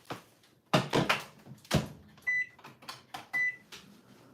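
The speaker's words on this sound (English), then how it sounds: "Microwave." Clunks and clicks of a microwave oven door and panel come in a quick series, each sharp and close, with a few short electronic beeps in between.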